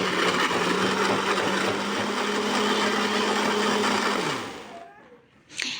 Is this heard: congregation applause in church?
no